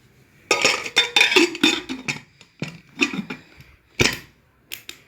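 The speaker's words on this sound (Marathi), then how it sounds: "अशा पद्धतीने आता आपण याला कुकरचं झाकण लावून 3 शिट्ट्या काढून घेणार आहोत" Metal clinks and clatters as the lid goes onto a pressure cooker holding khichdi with toor dal, a run of sharp, close knocks and scrapes coming in irregular bursts, with short quiet gaps between them.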